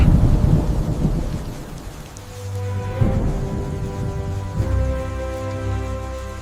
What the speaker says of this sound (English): A severe thunderstorm strikes.